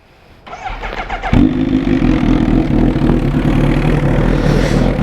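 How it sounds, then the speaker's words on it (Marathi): A Kawasaki Ninja H2 motorcycle cold starts: a short starter whir, then the engine catches with a sharp burst and settles into a loud, steady idle close by. "लावली की करूया आता कोल स्टार्ट."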